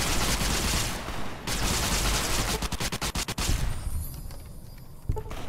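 Gunfire from the god gun in the video game Fallout New Vegas, loud rapid bursts and a fast string of sharp shots, fading into quieter game ambience.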